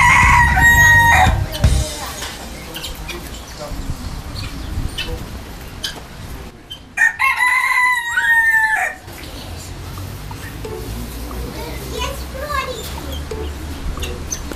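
Guinea fowl calling at a farm, loud harsh cries mixed with rooster crowing and clucking, with a burst of shrill repeated calls midway and other birds around outdoors.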